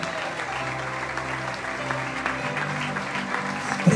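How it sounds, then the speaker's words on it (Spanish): A church congregation applauds during a Spanish-language sermon, a steady wash of clapping that holds level for four seconds, with a low sustained musical tone underneath. "¿Cuánto le dan un fuerte aplauso al Eterno?"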